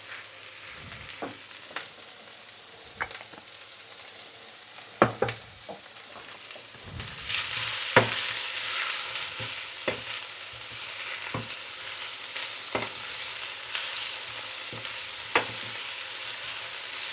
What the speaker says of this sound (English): Now fry these for a few minutes until the mushrooms look like they're almost done